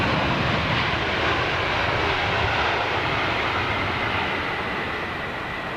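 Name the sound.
jet airliner taxiing on the runway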